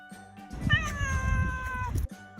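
A cat meows once in a long, drawn-out, wavering cry that rises and then slowly falls, loud and close, with a soft breathy onset and no voices around it.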